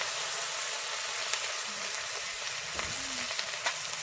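Ground cumin and spices frying in hot oil for a bottle gourd and egg ghonto, a steady close hiss of sizzling with faint crackles, no voices.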